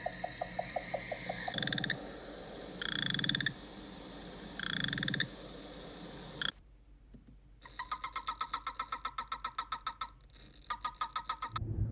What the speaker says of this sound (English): We wanted to let you listen to the sound of some local frogs.